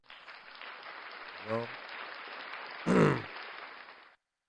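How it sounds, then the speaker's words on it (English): A thin, faint patter of applause runs under the scene for about four seconds, broken by two short bursts of a man's vocal sound, the second louder, before it cuts off abruptly. "Round of applause for everybody being here."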